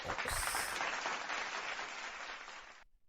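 Applause greets a podcast host at the opening of an episode, a brief dense burst of clapping that fades gradually and cuts off abruptly, fairly quiet overall.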